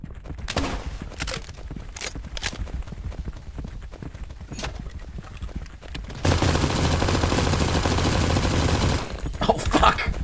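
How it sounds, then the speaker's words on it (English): Gunfire from a video game rings out as a series of sharp shots at a steady pace, followed by a long, loud burst of noise and then more scattered shots. "Flare gun."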